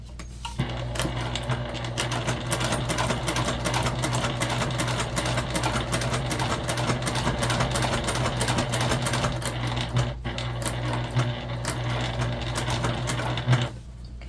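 A sewing machine runs steadily while top stitching a fabric pouch, then back stitching. Its close, continuous whirring lasts throughout with no talking.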